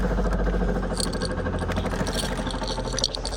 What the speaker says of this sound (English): I guess that's the pump.